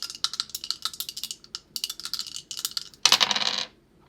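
Dice clattering in the video game Dice Trial: a rapid series of small, bright plastic clicks and rattles, followed by one louder tumbling burst near the end before it falls silent.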